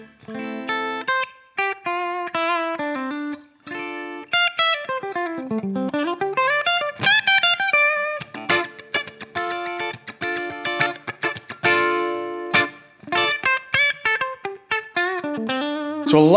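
An electric guitar played through a Line 6 Helix tweed blues amp model on the neck pickup with the tone control lowered, playing bluesy single-note phrases, bends and short chords, clear and upfront with no talking.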